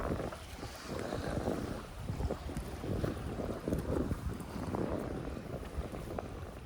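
Strong wind buffets a fishing boat out at sea, gusting roughly against the microphone with low rumbling surges of water and hull noise throughout, no one speaking.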